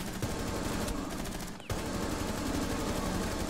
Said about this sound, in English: I can't move because someone's shooting me from the stairs.